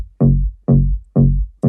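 Layered top bass and sub bass synth notes playing together as one tight sound, with three loud, evenly spaced sustained bass hits and the start of a fourth, in a dance music production setting.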